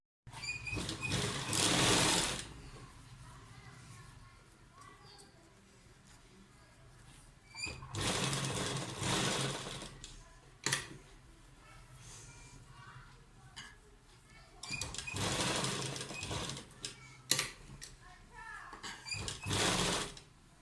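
A sewing machine stitches the neckline of a kurta in several separate runs of a few seconds each, with quiet handling sounds in the pauses between them.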